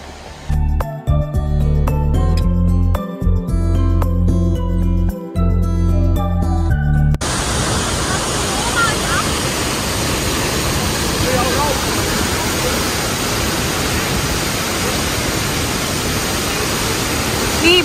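After several seconds of music, the waterfall in Vrata Valley, Slovenia takes over as a loud, steady roar of falling water that fills the rest of the clip without pause.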